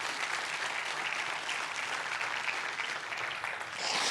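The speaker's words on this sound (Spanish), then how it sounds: "Denle un fuerte aplauso a Dios" A church congregation at a sermon breaks into sustained, dense applause, loud and continuous throughout with no speech over it.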